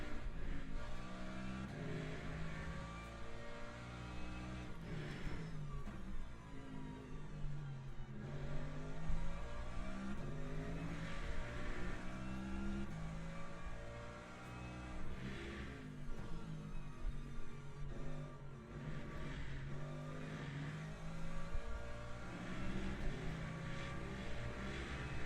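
A race car engine in the racing video game Le Mans Ultimate, at the 6 Hours of Qatar, roars continuously, revving up and down through gears with a buzzy, synthetic tone.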